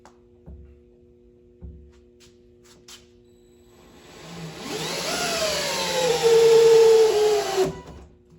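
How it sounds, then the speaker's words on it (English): A cordless drill driver bores into a piece of wood, its motor whirring up into a steady loud drone for several seconds and then cutting off, preceded by a few light knocks. "we're going to try to drill it all the way into here and just see how it does."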